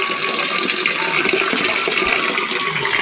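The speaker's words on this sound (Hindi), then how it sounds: "ये इसी को बोलते हैं धारे का पानी" Water pouring from a stone spout (dhara) in a mountain village in Uttarakhand, a steady hissing splash of running water, continuous and close, with no talk.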